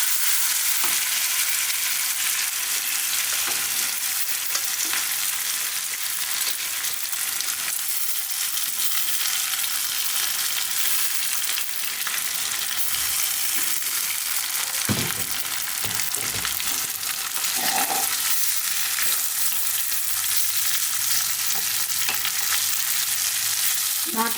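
Gobindobhog rice fries over a medium flame in a pan, a dense unbroken sizzle running the whole time with intermittent scrapes and knocks from continuous stirring, loud and near, no voices.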